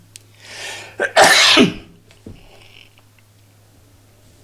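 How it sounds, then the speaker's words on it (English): A single sharp, explosive cough-like burst, loud and close, followed by quiet; no talking. "I'm going to cough involuntarily through this"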